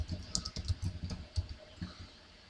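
Computer keyboard typing while entering a server URL during a hacking exercise, a quick irregular run of close, crisp key clicks that thins out toward the end.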